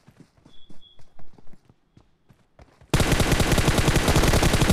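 Rapid automatic gunfire in PUBG Mobile during a solo-versus-squad rush, bursting in loud and dense after quieter scattered footsteps and shots, continuing as a sustained rattling volley.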